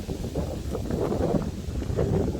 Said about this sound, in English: This very windy view.